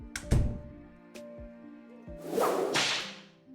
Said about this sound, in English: so we'll use that bull whip.